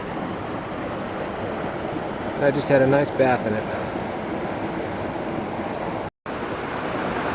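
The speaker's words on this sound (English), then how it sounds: "This is all the Tuolumne River." Steady rushing of the Tuolumne River flowing toward Hetch Hetchy, a broad continuous wash of water close by, with someone speaking briefly over it partway through and a short dropout near the end.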